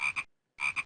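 Two close, loud double-pulsed toad croaks from the Zoombinis video game, separated by a brief silence, with no talk.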